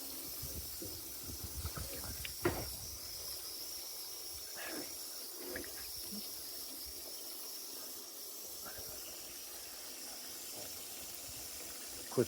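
Water trickles and hisses faintly as an evaporative cooler fills during its seasonal start-up, a quiet steady flow with occasional clinks and small handling knocks, no speech.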